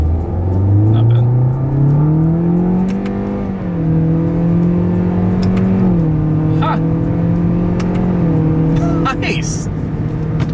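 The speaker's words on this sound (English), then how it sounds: "can get the new Corolla hatch here up to speed" A 2026 Toyota Corolla Hatchback with a CVT accelerates in sport mode, its engine drone rising steadily from inside the cabin and dipping at simulated gear changes, loud and continuous.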